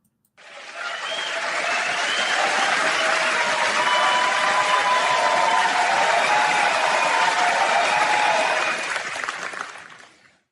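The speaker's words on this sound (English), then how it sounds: "Can we just hear a little bit of applause for the plumber finally getting on the record?" Crowd applause rising quickly, holding as a dense, even wash of clapping for several seconds, then fading out; no voices over it.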